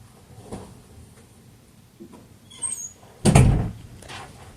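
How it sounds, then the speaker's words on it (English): A bedroom door closes with a few faint handling knocks, then one firm thud near the end, in a quiet room. "Can you close my door?"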